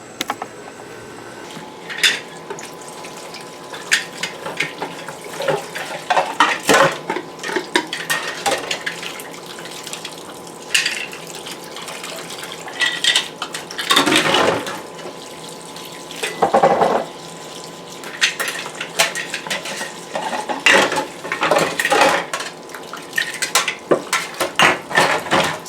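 Tap water runs into a kitchen sink on a homestead while empty containers are rinsed and handled, with intermittent splashing, clinks of dishware and bursts of stronger flow over a steady wash of running water.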